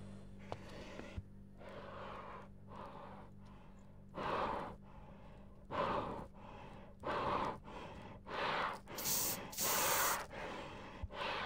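Heavy, rasping breaths from an unseen creature in the horror game Anomaly Exit, set in a dark European subway station; repeated long inhale-exhale bursts in a slow rhythm over a low hum, with no talk.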